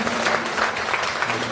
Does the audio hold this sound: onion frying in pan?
no